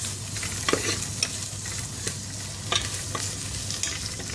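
Onions sauté in a little oil with chilli powder, salt and turmeric for urad dal, making a continuous close sizzle with soft spoon scrapes and light taps against the pan at irregular intervals.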